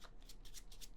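Very quiet riffling and flicking of playing cards being shuffled for a variant of Scoundrel, a dungeon card game, a quick series of soft, papery bursts close by with no talking.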